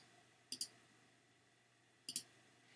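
Two pairs of sharp computer mouse clicks, each a quick double tap, spaced about a second and a half apart against a quiet background.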